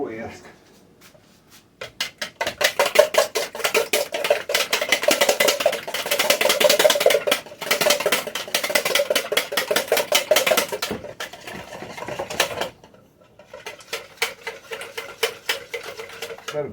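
Batter with baking powder being whisked in a bowl, a rapid rhythmic scraping and clatter of the whisk against the bowl in steady bursts, briefly stopping before resuming.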